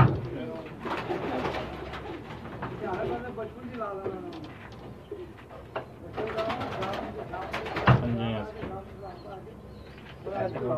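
Pakistani pigeons coo on a rooftop in soft repeated warbling phrases close by, overlapping with a person speaking and some rustling movement.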